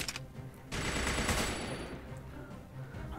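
Rapid automatic gunfire in the Oculus Rift VR shooter Battle X, a loud, steady burst of shots lasting a couple of seconds with no talk.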